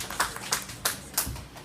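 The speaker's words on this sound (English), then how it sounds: "Please give a round of applause." Applause at a women's forum during a church harvest event, heard as a brief round of clapping with evenly spaced bursts, moderately loud and without talk.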